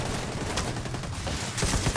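Dense gunfire from The Division 2 fills the scene in rapid, overlapping bursts, loud and continuous, with a heavier burst near the end.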